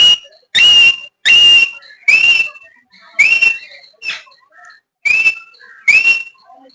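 An Alexandrine parakeet at a zoo in Kurumbapatti, Salem gives loud, shrill whistling calls, repeated about eight times in short, evenly spaced bursts.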